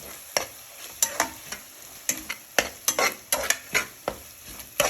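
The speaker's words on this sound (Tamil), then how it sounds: "இஞ்சி பூண்டு பேஸ்ட் போட்டுட்டு மட்டும் கொஞ்சம் கைவிடாமல் கொஞ்சம் நேரம் வதக்குங்க" Ginger garlic paste sizzles in a pan for prawn biryani as a utensil stirs it steadily, giving a constant close frying hiss broken by sharp scraping strokes against the metal.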